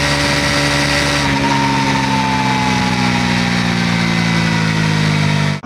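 A Bajaj Dominar 400 motorcycle with a new 350cc engine runs loud and close, a steady droning exhaust whose pitch eases down slightly as the revs settle, continuous with no talk.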